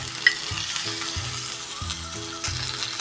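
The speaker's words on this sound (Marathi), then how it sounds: "ही फोडणी आपण चांगली परतून घेऊया" Curry leaves sizzling in a hot oil tempering in a pan for tomato chutney, a steady crackling hiss broken by a few scraping stirs of the spoon.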